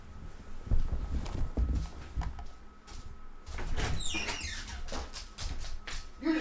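Irregular light clicks and taps of a dog's nails on a hard floor amid soft thumps and a brief door-like scrape.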